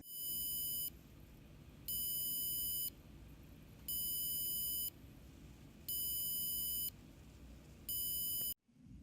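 An Arduino buzzer beeps five times in a steady pattern, each high-pitched tone lasting about a second with equal pauses between, over a low background hum.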